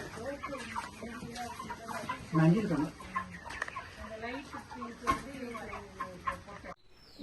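Several chickens cluck and chatter close by in a steady, busy stream, with one louder squawk partway through.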